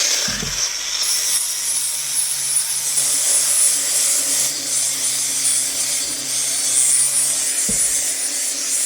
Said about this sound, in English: So I've got the flappy disc on. This is the 120, like we said.